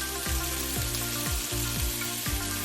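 Water boiling in a pot on a home stove, a steady bubbling hiss broken by deep, regular thumping bursts about every half second, close and continuous with no talking.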